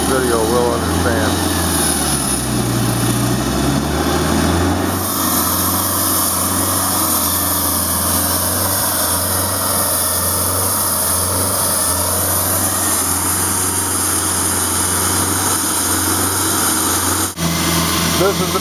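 Handheld Husqvarna 6600 concrete saw cuts into a very dense, hard concrete street, a loud continuous high-pitched engine whine with the blade grinding steadily and slight shifts in pitch as the load changes.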